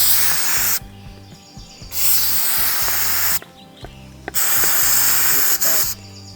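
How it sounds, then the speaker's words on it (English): Aerosol gun scrubber sprays in long, loud hissing bursts into the chamber of a Ruger 10/22 .22 LR rifle, with several sustained blasts separated by short pauses. "pull back the latch here on the chamber, spray some inside of there"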